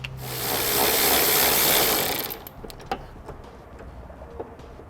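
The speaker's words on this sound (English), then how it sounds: "we're going to be taking out 1, 2, 3, and 4 10mm bolts" Power tool driving out 10mm bolts on a 2014 Toyota FJ Cruiser, a close whirring burst lasting about two seconds, then faint metallic clicks and handling noises.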